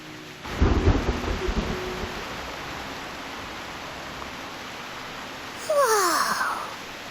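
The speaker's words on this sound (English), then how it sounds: "What a heavy rain outside!" A loud thunderclap rolls out over steady heavy rain in the video game Reverse 1999, then fades into a constant rain hiss with a brief whooshing effect near the end.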